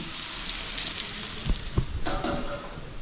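Egg bhaji frying in a pan gives a steady, soft sizzle and crackle throughout, with a couple of brief stirring or scraping knocks near the middle; nobody speaks.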